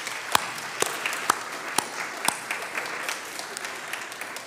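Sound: audience applause

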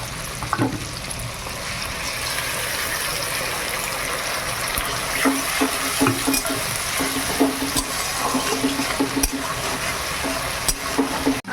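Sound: frying onion, tomato, ginger and garlic in a pan

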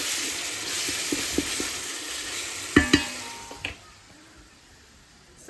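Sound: frying onion and tomato in a pan

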